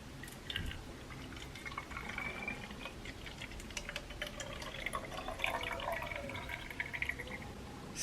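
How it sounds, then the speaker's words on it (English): Water poured into a bottle of polymer beads for a science kit experiment, giving soft trickling and dripping with light ticking clicks, steady and close throughout. "Pour the water over the beads in the first bottle."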